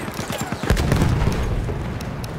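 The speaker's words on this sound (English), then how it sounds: "Heads up! Grenade out!" A grenade goes off in Battlefield 1 on the Sinai Desert map with a close, heavy boom and a deep rumble. Scattered gunfire pops come before it, and the blast's roar lingers for over a second.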